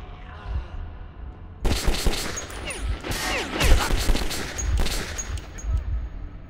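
Gunfire in the video game Metro 2033, a run of loud close shots in quick bursts after a quieter opening, with sharp impacts and echoing tails.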